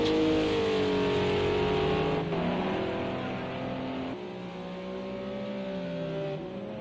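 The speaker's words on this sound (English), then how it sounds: "Sounds like the McLaren. Not too sure. No, it's Ferrari." Ferrari GT3 race car in a racing game at Spa, its engine droning loud and close at high revs, pitch rising and falling through gear changes, with another car's engine in the mix.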